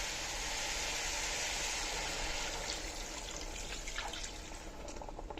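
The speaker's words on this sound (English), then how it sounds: "So after I saute it a little bit, then I'm gonna add water." Water is added to frozen spinach sautéing in a pan, giving a steady rushing hiss with sizzling and bubbling throughout and faint crackles toward the end.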